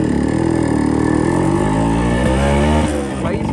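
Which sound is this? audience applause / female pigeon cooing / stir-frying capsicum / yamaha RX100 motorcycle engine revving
yamaha RX100 motorcycle engine revving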